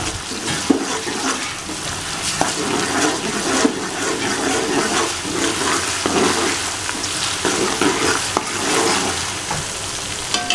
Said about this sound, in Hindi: 2 चम्मच अदरक लहसुन के डालेंगे और अच्छे तरीके से फ्राई कर लेंगे।